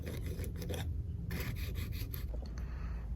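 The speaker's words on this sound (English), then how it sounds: "Forgot to do this gasket here, so we're gonna be scraping that off." A scraper drags old gasket material off the aluminium cylinder head of a Volvo S60R in repeated short, rasping strokes, quiet and close with no talk.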